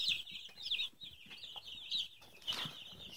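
Freedom Ranger chickens, with a few heritage breeds, cluck and trill in a busy farm flock, soft overlapping calls with a brief rustle of wings, fairly quiet and close.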